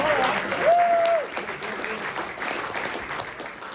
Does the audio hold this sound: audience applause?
yes